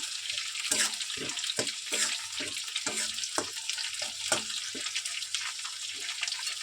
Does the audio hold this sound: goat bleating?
no